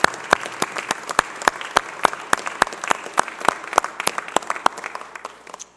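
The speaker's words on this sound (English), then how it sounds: "big round of applause as well." Sharp, evenly spaced claps ring out, sounding like a small audience applauding community crime fighters at a public safety update, before fading at the end.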